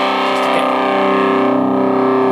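A sustained, buzzy distorted electric guitar chord rings out through a Squier/Fender SP-10 amp, bright, trebly and harsh, fading slightly toward the end.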